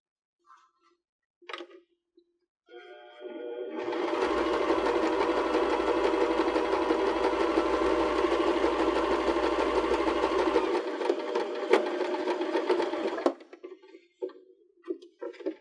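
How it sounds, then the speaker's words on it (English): A sewing machine sews trim onto a cork strap purse in one continuous run of about ten seconds, close up. A few faint clicks come before it and after it. "And then we'll sew the other side of the trim."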